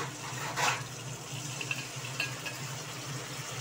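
Sauce-thinned water, mixed from soy, tomato and chili sauce, is poured into a pan for Bengali-style chili prawns, a short splash near the start and then a soft, steady liquid trickle with faint clinks.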